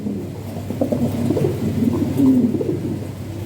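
Low, soft cooing of breeding European Lahori pigeons, several throaty calls close by over a dull background rumble.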